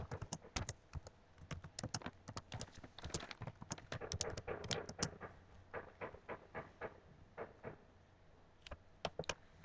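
Rapid, uneven keystrokes on a computer keyboard come in quick bursts with short pauses, fairly faint and close, as someone types text into a blog editor.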